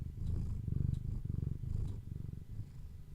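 An elderly cat purrs up close, a deep rhythmic rumble that pulses steadily with each breath and stays loud and continuous throughout, with no talk over it.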